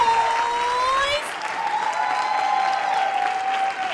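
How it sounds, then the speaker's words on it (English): Applause from the audience at a beauty pageant in Karnataka, a dense burst of clapping over sustained music tones that thins after the first second into a lighter ongoing patter. "I want you guys to give a round of applause for yourself."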